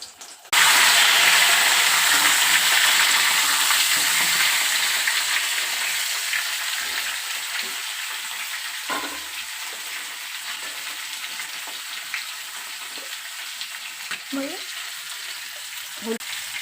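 Potatoes frying in hot oil with cardamom, cinnamon, cloves and bay leaf, a loud steady sizzle starting abruptly and gradually easing, with occasional stirring scrapes and faint talk in the background.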